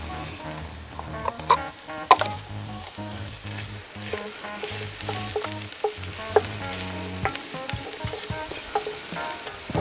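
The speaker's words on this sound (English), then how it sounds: "I'm just going to saute these onions and mushrooms until they get tender" Onions and mushrooms sauté in a pan on a PK 360 grill outdoors, a soft steady sizzle broken by clinks and scrapes of stirring, while a low rhythmic hum carries underneath and birds chirp faintly.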